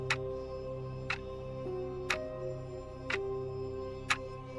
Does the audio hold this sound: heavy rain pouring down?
no